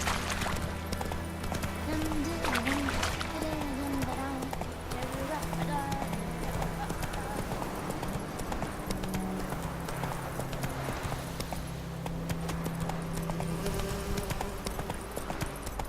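Hoofbeats of Roach, Geralt's horse in the video game The Witcher 3, clip-clopping steadily on the ground against a dense bed of game music and ambience, with someone talking over it.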